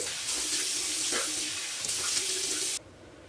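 Water runs steadily from a bathroom sink tap into the basin, a continuous close hiss with small splashing changes, then cuts off abruptly near the end.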